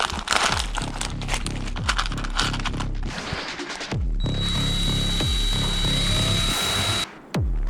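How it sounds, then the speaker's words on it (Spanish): A small power drill bores a hole for a push button in a handmade pocket cyberdeck case, a loud grinding whir with crackling bursts, then a steadier high whine before it stops abruptly. "Taladrar aquí un agujero y meterle este botón de pulsación."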